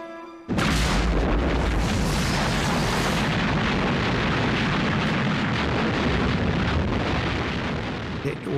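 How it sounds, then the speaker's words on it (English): A massive artillery barrage at El Alamein, hundreds of guns firing together: a sudden onset, then a loud, sustained rumble of overlapping booms rolling on without a break. "Must be 650 guns they are firing."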